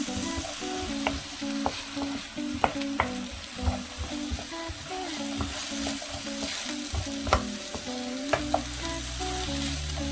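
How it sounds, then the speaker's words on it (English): Onion frying in a hot pan, with a steady sizzle and repeated sharp scrapes and taps as it gets stirred, close and clear with no talking. "Once that's been heated up, I'm going to add in the onion. Give it a mix."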